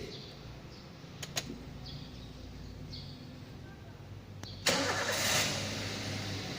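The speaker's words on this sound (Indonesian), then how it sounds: "selanjutnya kita menyalakan mesin." A car engine is started in a workshop after an EFI diagnostic scanner is connected to the DLC port: quiet background hum and a couple of clicks, then a sudden cranking catch into a louder, steady running idle.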